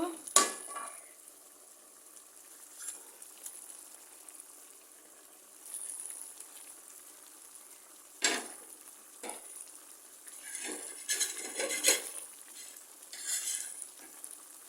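Fish added to taro corms cooking in a pan, with soft steady frying and sizzling broken by several sharper bursts and light clatter of a utensil against the pan.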